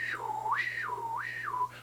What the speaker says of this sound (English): It's kind of a half whistle.